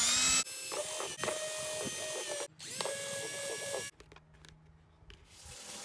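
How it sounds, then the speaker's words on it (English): A power drill whines through the bottom of a plastic flower pot in several bursts, pausing briefly between holes, loud and close, followed by quieter handling and clicks. "Just drill a few holes in the bottom."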